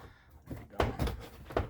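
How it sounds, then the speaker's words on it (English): Interior trim on a 2006 Ford Explorer rear door being pressed back into place, giving several dull plastic thunks and soft knocks at close range in a quiet setting. "Kind of push in on the door panel as it's going down."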